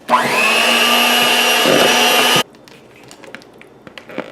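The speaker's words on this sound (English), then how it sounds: "mix it with a hand blender or hand mixer" An electric hand mixer whirs steadily and loudly for a couple of seconds mixing butter and agave syrup, then cuts off, leaving faint clinks and small kitchen noises.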